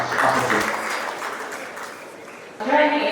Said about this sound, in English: join me as we welcome with a good big round of applause